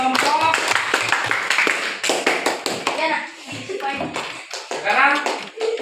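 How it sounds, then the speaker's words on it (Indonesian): Classroom students clap for a student group after its presentation, with uneven bursts of hand claps mixed with children's chatter and shuffling. The clapping is close and irregular rather than a steady roll. "Tepuk tangan untuk kelompok."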